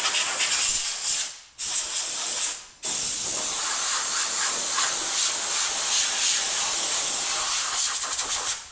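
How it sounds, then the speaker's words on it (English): Compressed air from an air hose blows hard against a Ford Taurus transmission. The loud, close hiss comes in two short bursts, then one long continuous blast, with no talking. "We're gonna blow it off with the air hose."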